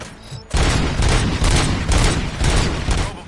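Loud bursts of gunfire in Robocop: Rogue City on PS5, a dense fusillade of rapid shots with heavy booms after a brief quieter lead-in, continuing without pause.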